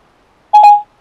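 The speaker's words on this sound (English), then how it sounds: "So I gotta wait for the beep." A single short electronic tone sounds from the Entune infotainment system in a Toyota Tacoma, a clean two-part beep lasting under half a second after a moment of quiet.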